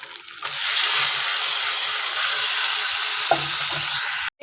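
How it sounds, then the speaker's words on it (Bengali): Marinated meat hitting a pan of fried onion, ginger, garlic paste and tomato sets off a loud, steady sizzle that holds throughout, with soft stirring scrapes and a brief clatter near the end. "তো এবার যে মাংসটা ম্যারিনেট করে রেখেছিলাম সেটা দিয়ে দেব।"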